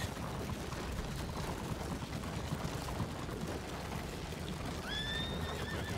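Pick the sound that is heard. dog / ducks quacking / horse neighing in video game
horse neighing in video game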